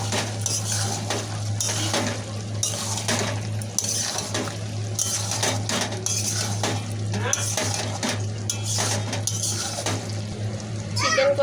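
Chicken kosha is mixed with spices, fried onions and coriander in a pan, with repeated spatula clatters and scrapes over a soft sizzle and a steady low hum, close up and continuous.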